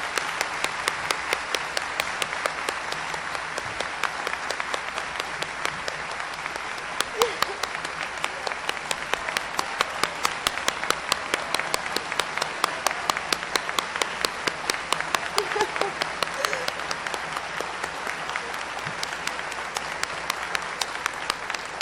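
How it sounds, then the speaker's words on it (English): A graduation audience claps for a long, sustained round that stays dense and even from start to finish, with many hands together filling a large space. "can I have one final round of applause for the Gateway icon?"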